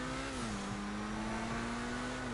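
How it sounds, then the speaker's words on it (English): Ferrari engine in GTA Online holding a steady, droning rev with a sustained tonal whine and only a slight rise and fall, fairly faint but constant throughout. "I'm in a Ferrari."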